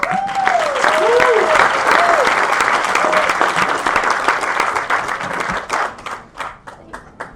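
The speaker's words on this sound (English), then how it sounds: "Let's give Connie another round of applause." Sustained audience applause and clapping at an outdoor county Republican party annual picnic, loud and steady before trailing off into scattered claps, with a voice speaking over it.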